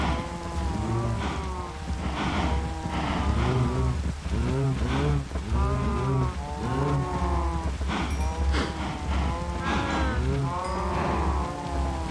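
A herd of cows moos continuously at close range, many overlapping long lowing calls layered over a steady rain-like patter.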